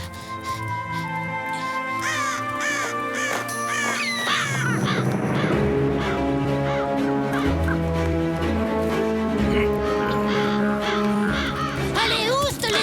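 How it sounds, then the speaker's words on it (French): Cartoon crows caw and squawk over and over, close and busy, mixed with other fowl-like calls and a music score. "Allez, oust les oiseaux! Saleté de corbeau."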